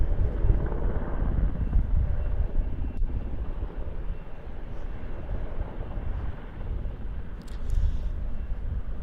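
An NH90 helicopter flies at an airshow in Leszno, giving a steady distant rotor and engine drone with wind buffeting the microphone for the whole stretch.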